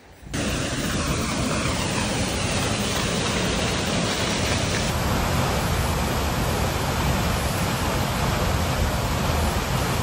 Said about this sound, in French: Autant la cascade, elle est pas surprenante, mais regardez les grottes comme ça là.